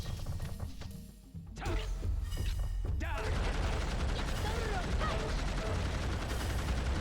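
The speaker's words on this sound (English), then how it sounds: "Oh, God, it's dropping bombs." Bombs dropping and exploding in the video game Blood Will Tell: Dororo, a dense run of booming blasts and crashes that starts after a short lull and continues loud and sustained, with a voice talking over it.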